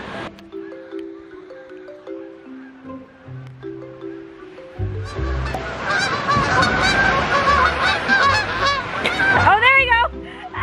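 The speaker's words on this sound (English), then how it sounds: "Oh, look at the birds!" A flock of migrating geese honks loudly and repeatedly, the calls overlapping and continuing throughout, accompanied by people talking and car or road noise, with the calls starting sparser before becoming dense.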